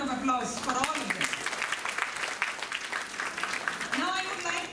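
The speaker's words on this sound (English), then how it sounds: "a huge round of applause for all of them." An audience gives a round of applause at a school National Science Day 2025 programme. The clapping is a fairly quiet, rustling wash that is mixed in with voices talking at the start and end.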